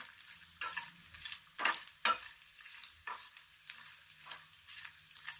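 Dry stirring and scraping of chillies roasting in a pan, with bursts of rustling and a faint crackle, no voices.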